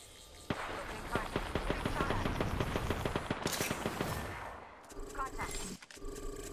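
Automatic weapon fire in a video game shooter firefight bursts out in rapid repeated shots, loud and sustained for several seconds before cutting off, followed by quieter game sounds.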